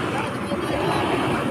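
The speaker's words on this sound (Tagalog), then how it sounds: "Mandar na ang motor." A boat motor runs steadily and close by in the Philippines, near Anilao in Oriental Mindoro, a continuous rumbling drone that fills the whole moment while people chatter faintly in the background.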